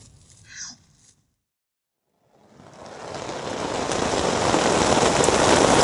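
Steady rain hissing and pattering in Dalyan, Turkey, starting after a short pause and growing louder and denser until it becomes a constant close downpour.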